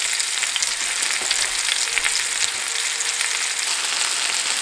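Meat for an oven stew browns in a frying pan, hissing and crackling in a steady, close sizzle with small pops scattered throughout and no talk.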